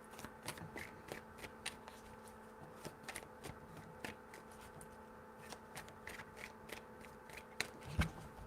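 A tarot deck is shuffled close by in soft, repeated card snaps and slides. The rhythm is irregular and mostly quiet, and a slightly firmer tap comes near the end.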